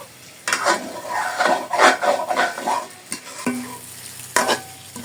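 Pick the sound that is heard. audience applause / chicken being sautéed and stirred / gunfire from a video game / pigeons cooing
chicken being sautéed and stirred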